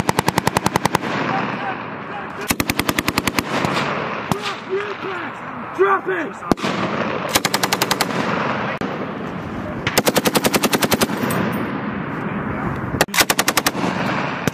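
U.S. Marines at battalion rifle training fire M16 rifles in loud, rapid bursts of shots, close by, separated by short gaps, with shouting voices between volleys.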